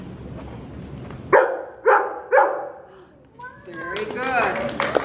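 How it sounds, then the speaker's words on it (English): A dog barks three sharp, separate times in quick succession, followed by a pause and then people talking and laughing close by. "if you say the first number, she's gonna start barking it"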